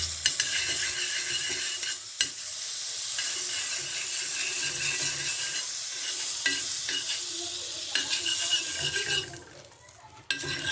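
Bread fries in butter on a tawa, a loud steady sizzle and hiss running throughout, broken by a few sharp utensil clinks and scrapes, close up with no talking.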